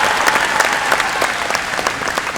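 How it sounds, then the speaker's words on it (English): Convention audience at a state FFA convention applauds loudly and continuously, a dense wall of many hands clapping with sharp individual claps standing out, close and uninterrupted by speech. "please join me in giving a round of applause to these state officers"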